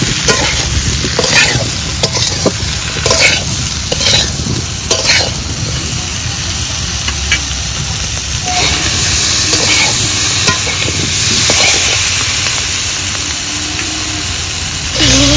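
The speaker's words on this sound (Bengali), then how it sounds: "স্বাদ মতো লবণ, পরিমাণ মতো হলুদ গুঁড়ো। এবার ভালো করে কষে নেব।" Spices with salt and turmeric are stir-fried in a pan for an elephant foot yam and hilsa fish curry: a loud, close, constant sizzle with repeated scraping stirs throughout.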